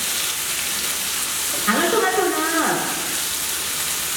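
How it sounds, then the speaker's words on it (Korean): Cherry tomatoes dropped into scallion oil in a hot pan give a sudden burst of sizzling about midway, rising over a steady background hiss and fading after about a second. "파기름을 넣고 파가 어느 정도 볶아졌다 싶을 때 토마토를 넣겠습니다."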